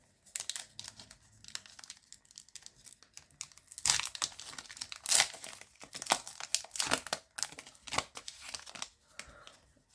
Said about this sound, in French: nous allons ouvrir le deuxième booster